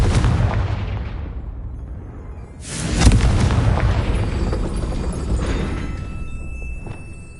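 Blasting spell explosions in the Hogwarts Legacy video game, a loud heavy boom bursting out midway over continuous rumbling combat noise, with further impacts trailing off.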